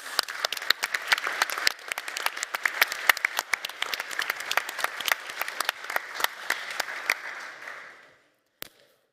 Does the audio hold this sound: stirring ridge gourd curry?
no